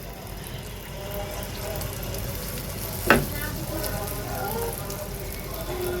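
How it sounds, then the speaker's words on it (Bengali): Pitha rice cakes frying in a pan of oil give a steady, continuous sizzle throughout, with one brief sharper clatter or stir midway. "এখন সুন্দর করে ভেজে নিব সব মিল্লা"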